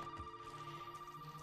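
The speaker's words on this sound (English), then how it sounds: "Oh, the phone's going." A telephone rings inside the Resident Evil 7 video game, a steady electronic ring tone holding alone and faintly for about a second and a half with no talk over it.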